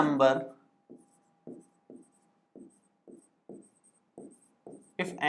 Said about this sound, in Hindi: तो मैं एक बार कंडीशन लिख देता हूं